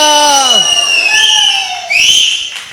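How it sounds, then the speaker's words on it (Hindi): A church audience whistles loudly, several overlapping shrill sliding whistles rising and falling together over crowd noise, close and sustained. "सीटी बजा दिया।"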